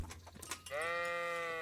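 A sheep gives a single wavering bleat, loud and close, after a moment of scuffling in Kingdom Come: Deliverance.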